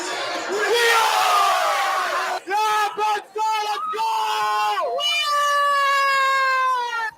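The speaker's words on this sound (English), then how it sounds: "you give me your best game day cheer?" Fans shout a game day cheer at a Nittany Talk live event, loud high-pitched yells and whoops coming in overlapping bursts, briefly breaking off, then swelling into a long sustained shout.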